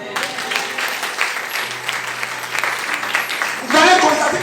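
A church congregation applauding, acclaiming Jesus: steady dense clapping throughout, with a voice speaking over it and a louder swell near the end.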